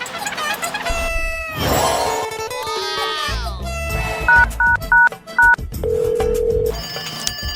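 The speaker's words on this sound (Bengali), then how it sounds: "না মহিষাসুরকে ফোনটা করি" A short run of distinct phone dialing beeps, then a steady tone, following music and a quick rising whistle-like sound.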